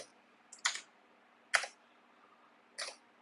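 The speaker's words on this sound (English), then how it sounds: "I'm just selecting tab, that's it, and clicking on enter." A computer keyboard gives three separate soft clicks, a couple of keys pressed at spaced intervals in a quiet room.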